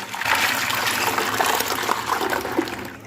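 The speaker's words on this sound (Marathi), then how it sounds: "मी हा जो काढलेला चीक आहे तो पुन्हा एकदा चाळणीमधून काढते" Wheat starch liquid pours and trickles steadily through a fine sieve while kurdai is being made, a close, continuous watery rush that stays loud throughout and tapers slightly at the end.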